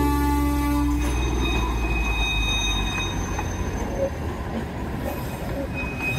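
An NDM6 diesel locomotive of the Darjeeling Himalayan Railway rolls across a road crossing, a loud close rumble with a low engine drone at first, then continuous wheel and track clatter and faint squeals.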